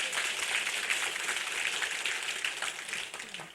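A church congregation claps during a worship service, a broad steady wash of many hands that keeps going and fades slightly near the end.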